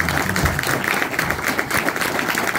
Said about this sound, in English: have a big round of applause for Malcom Evans.